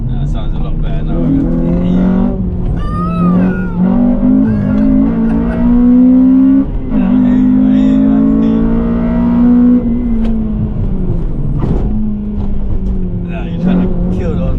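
A Honda Civic Type R FN2 fitted with a Tegiwa exhaust and HKS intake revs loudly and steadily up close, its engine note rising and falling, while excited voices talk over it.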